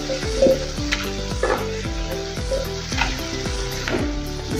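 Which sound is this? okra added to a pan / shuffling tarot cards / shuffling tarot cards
okra added to a pan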